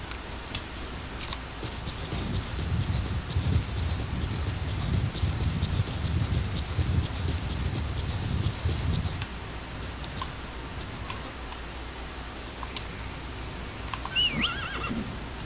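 A horse in the video game Metal Gear Solid V trots and whinnies, its hoof clip-clops thudding steadily for several seconds before fading. Light rain patters through, and a neigh sounds near the end.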